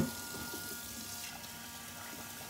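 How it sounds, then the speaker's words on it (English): Water pours steadily into a rice cooker pot in a kitchen, a soft continuous trickling stream heard up close and fairly quiet, with no talking. "So when I add my water to my rice cooker"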